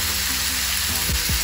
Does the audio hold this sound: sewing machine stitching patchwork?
no